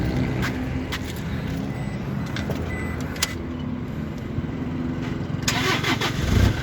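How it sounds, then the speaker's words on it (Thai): A 2005 Toyota Hilux Vigo pickup truck engine cranks and catches, then settles into a steady, rough idle close by, with a few clicks and clunks mixed in. "เดี๋ยวเราติดเครื่องให้ฟัง"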